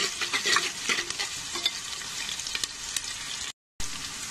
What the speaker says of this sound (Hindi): अभी प्याज डालेंगे और अच्छा गोल्डन ब्राउन कर लेंगे। ग्रीन चिली से मैंने डाल दिया है और फ्राई करेंगे अच्छा।